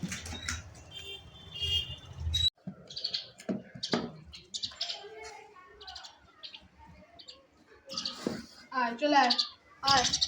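Hungry caged common mynas call in a string of bright chirps and tweets at close range, with a person talking between and over the calls.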